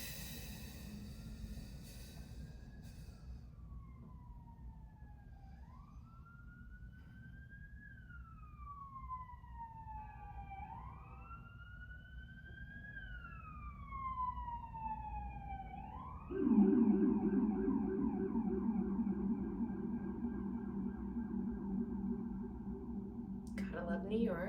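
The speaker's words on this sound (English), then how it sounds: "Gotta love New York. Sorry about the sirens." Sirens in a New York City street wail in the distance, rising and falling in slow sweeps, then switch to a louder, rapid yelping tone as they draw nearer amid faint background noise.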